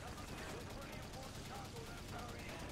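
Dense rapid gunfire from the video game Call of Duty: World at War fills the moment with continuous crackling bursts, heard loud and unbroken from start to end.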